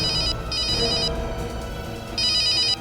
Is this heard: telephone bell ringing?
yes